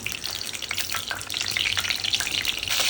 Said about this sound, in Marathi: आता मी गॅसवरती कढई ठेवली आहे आणि तेल घालत आहे. त्यामध्ये जिरं राईची फोडणी दिली.